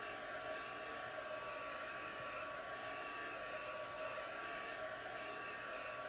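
Hair dryer blowing steadily to dry chalk paint on a galvanized metal piece, a close, continuous whooshing hum held at constant loudness throughout with no talking.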